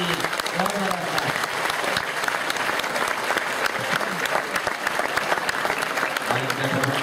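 Applause from a lecture audience at a public talk in Cairo, a dense steady clatter of many hands filling the hall throughout, with brief voices surfacing faintly beneath it.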